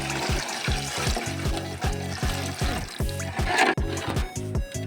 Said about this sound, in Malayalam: നമ്മൾ കുറച്ച് തിളപ്പിച്ച വെള്ളം ഒഴിക്കുന്നു.